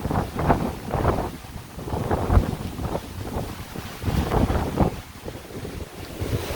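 Strong, gusty hurricane wind from Hurricane Ian in central Florida roars steadily into the microphone, rising and falling in loud buffeting surges with no voices.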